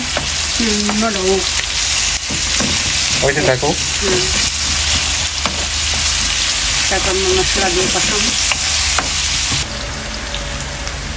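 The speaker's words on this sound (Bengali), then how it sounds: "এই পাশে মুরগির জন্য পেঁয়াজ বোনা হইতেছে" Onions frying in a pan for chicken, a loud close sizzle throughout, with people chatting intermittently over the cooking.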